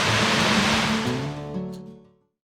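Broad rushing water noise from Little Fern Falls in winter, loud and continuous, fading out toward the end with a low hum underneath.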